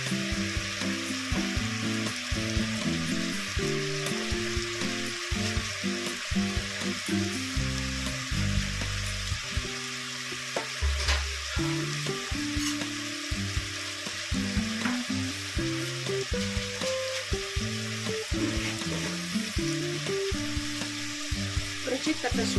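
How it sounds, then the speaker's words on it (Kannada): Snake gourd pieces frying in a pan with a pinch of turmeric: a steady, dense sizzle with occasional stirring scrapes, close and fairly loud, with no talking. "ಎರಡು ನಿಮಿಷ ಪಡವಲಕಾಯಿ ಹುರ್ಕೋಬೇಕು ಚೆನ್ನಾಗಿ"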